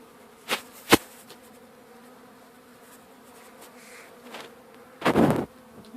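Bees buzzing around a hive while a cob hive is built: a couple of sharp close fly-by buzzes early, a faint steady hum in between, then a louder buzzing pass near the end, no talk.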